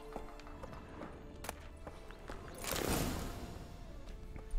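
Quiet hooves of a horse clip-clop on the ground in the video game The Witcher 3, with scattered irregular clicks and a soft rushing swell in the middle, set against faint background ambience.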